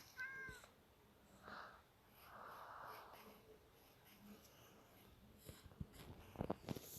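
A Minecraft cat meows a couple of times over a quiet game soundtrack, followed by a few sharp clicks and taps near the end.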